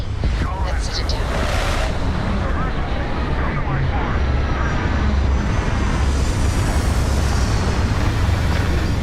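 Spaceship setting down in the game Starfield: a loud, continuous engine roar with broad rushing noise and deep rumble holding steady throughout, with a brief whine early on.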